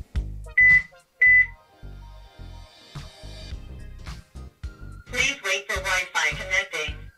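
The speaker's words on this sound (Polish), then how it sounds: "Po usłyszeniu sygnału z kamery oczekujemy na połączenie jej z siecią." A rotating PTZ WiFi IP camera with two lenses and 4x optical zoom gives two short, clear electronic beeps about half a second apart. A busier stretch of mixed sound follows.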